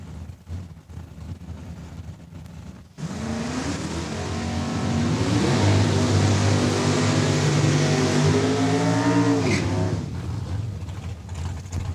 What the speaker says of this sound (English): Phillips through the top end, gets through 975, 138 miles an hour